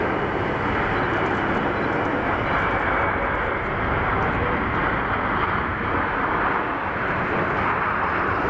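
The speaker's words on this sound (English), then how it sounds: "In from Doha, Qatar A350." A Qatar Airways Airbus A350 in from Doha roars steadily on about a one-mile final at Geneva Airport, a loud, sustained jet-engine rumble with broadband rush that holds even throughout, no voices present.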